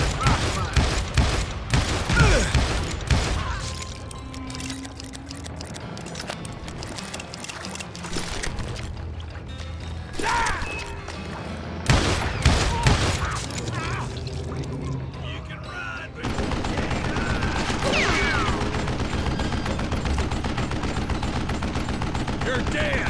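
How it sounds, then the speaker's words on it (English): Rapid gunfire volleys and crackling shots from the Western shooter game Call of Juarez: Gunslinger, loud and dense in bursts, with a brief lull midway and a steady barrage toward the end, mixed with game voices. "a fusillade of bullets come raining down from on high"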